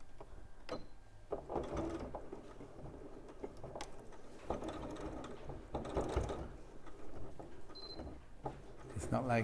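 Sewing machine straining through thick, chunky layers of a quilted make-up bag, with faint intermittent mechanical whirring, clicks and thumps, muffled and low in level beneath soft voices talking.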